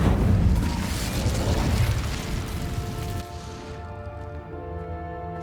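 Incendio fire spell cast in the Hogwarts Legacy video game: a loud, roaring burst of flame that lasts about three seconds, then fades into a sustained musical tone. There are no voices.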